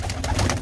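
Pigeons cooing nearby, a soft low murmuring coo that runs through a brief moment, close and fairly loud with no people talking.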